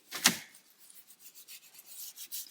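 A brush scrubbing a leather steering wheel during a cleaning job, giving a sharp bristly rasp at the start and then a run of soft, rhythmic rubbing strokes, close and fairly quiet with no speech.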